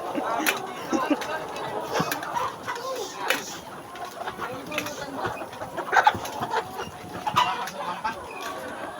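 Chickens cluck in short, scattered bursts, several birds close by, with faint voices mixed in underneath.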